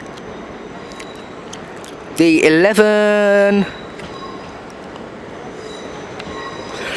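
A South Western Railway train pulling into London Waterloo gives a loud, sustained wheel squeal lasting about a second and a half, with shifting metallic tones, over steady station ambience and a brief spoken word.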